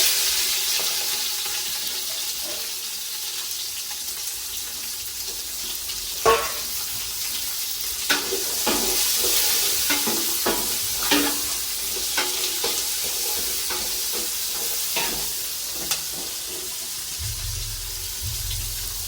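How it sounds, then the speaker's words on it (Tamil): Onions sautéing in a pan while being stirred, a steady frying sizzle with intermittent scraping and clinks of a spoon against the pan, moderately close, with a brief splash of running water near the end. "இப்போ பார்த்தீங்கன்னா வெங்காயம் வதங்கிட்டு"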